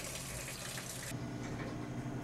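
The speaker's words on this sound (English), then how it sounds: "Hold down the button until the soda water comes to a dribble or stops." Soda water sprays from a bar soda gun into an empty bucket, a steady close hissing gush that abruptly weakens to a thinner trickle partway through, with no voices.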